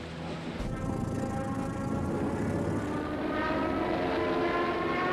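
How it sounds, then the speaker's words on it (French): German warplanes attacking in WWII archive footage, heard as a continuous loud droning aircraft engine roar filling the whole clip without letup. "Ils sont sous le feu des avions allemands."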